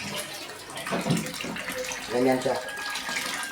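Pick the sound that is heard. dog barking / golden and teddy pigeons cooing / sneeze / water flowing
water flowing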